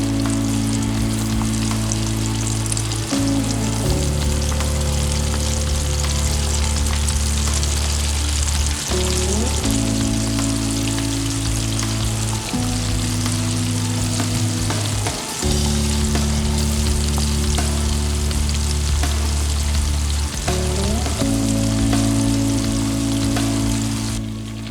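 Chicken pieces deep-frying in a mix of salad oil and sesame oil for chicken nanban, a steady, loud sizzle with a constant bubbling hiss throughout, plus a low droning hum that shifts pitch every few seconds underneath.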